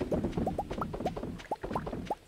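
Rapid popping from farm machines in the Stardew Valley video game, a string of short rising pops in quick irregular succession, fairly close and clear with no talk over them.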